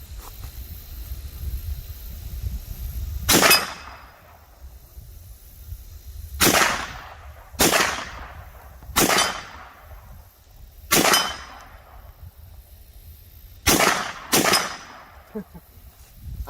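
A 9mm carbine fires seven loud, cracking shots at irregular intervals, some carrying a faint metallic ring from a swinging steel target, over low outdoor rumble.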